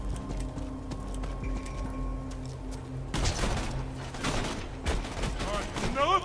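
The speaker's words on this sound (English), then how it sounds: "I see bullets are going everywhere" Gunfire in the Borderlands 2 shooter game: dense bursts of shots start about halfway through and keep crackling over a steady game hum, with a talking voice.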